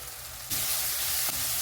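Onions sizzle loudly in a pan, the hiss jumping up suddenly after a quieter start and staying strong, with a brief stir partway through.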